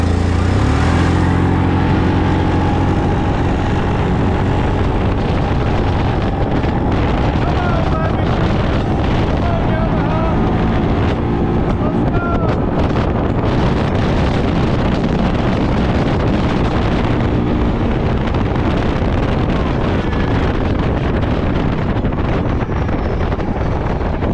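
A 2024 CFMOTO CFORCE 500 and a 2024 Yamaha Kodiak 450 ATV drag racing outdoors, two engines roaring loud and steady throughout, revving up together with heavy wind buffeting the microphone.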